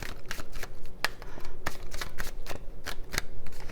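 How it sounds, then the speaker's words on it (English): A large tarot deck being shuffled by hand, a rapid rhythmic series of papery riffles and slaps, close and fairly loud, with no talking. "let's just shuffle it again"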